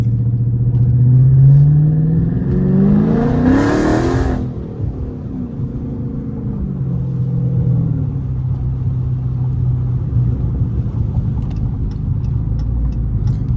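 A Dodge Challenger Scat Pack's V8 revs hard in traffic, one loud rising surge of engine roar that peaks and then drops into a steady low idle rumble for the rest of the clip.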